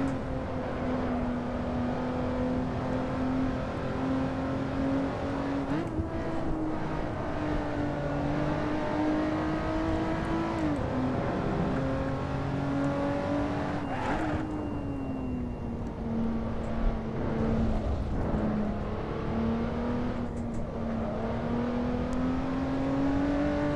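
Car engine in the racing game Assetto Corsa, driven downhill through fast corners: a steady, loud droning tone that holds throughout, with brief pitch drops and rises at gear changes around the six- and fourteen-second marks.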